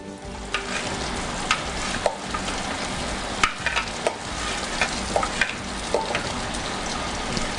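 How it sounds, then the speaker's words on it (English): Mushroom and onion mixture frying in butter in a skillet, a steady close sizzle with scattered sharp pops and crackles throughout, no voices. "I'm going to add all of my pulsed mushroom and onion mixture to the skillet"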